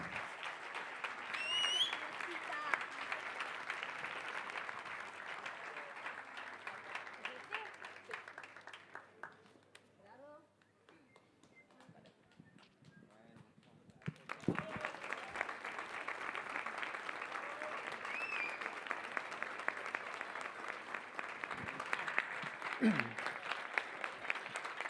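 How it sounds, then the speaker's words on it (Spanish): A conference audience applauds councillors, a dense wash of clapping that dips into a quieter lull midway before swelling back up, with scattered voices and crowd murmur throughout. "Un fuerte aplauso también a todos ellos."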